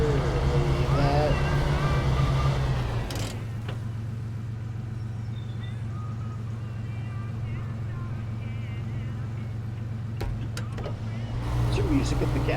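A truck in the video game SnowRunner drives up and out of water, its engine a steady low drone with splashing and sloshing; talk sits at the start and end of the stretch.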